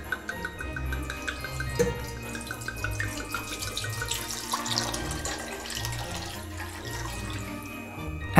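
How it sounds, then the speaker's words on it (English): Wine pours into a high pan on a stove as a continuous, quiet liquid splashing and trickling that lasts throughout, heard close and alone. "Put a high pan on your stove and pour in the wine."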